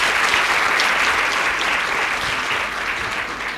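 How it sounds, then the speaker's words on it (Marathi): Audience applause at a career fair held by Nashik Shikshan Prasarak Mandal at its Nashik Road campus during the centenary year, steady, dense clapping from a crowd that holds loud and even throughout. "चौघींसाठी टाळ्या झाल्या पाहिजे."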